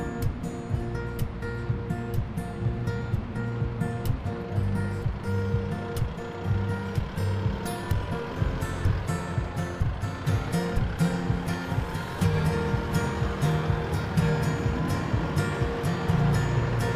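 Surf rolls continuously onto Kinkuna Beach while a 4WD drives over soft, sloping sand, the wash of the waves blending with a steady engine and mechanical rumble, with no talking.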